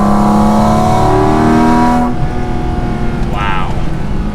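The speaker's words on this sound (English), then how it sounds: "you can just hear so much character to this engine" A Porsche 718 Cayman GT4 RS Weissach engine revs loudly and close, its pitch holding high before dropping off, then idling with a brief rising whine.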